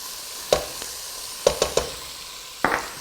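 Tomato puree sizzles in a pan of vegetable curry as a utensil stirs it, with several sharp scraping knocks over a soft, steady frying hiss and no voices.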